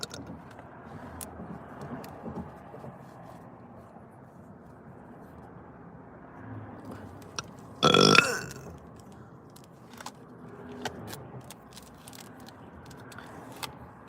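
A single loud, short burp stands out midway through an otherwise quiet stretch of low background noise.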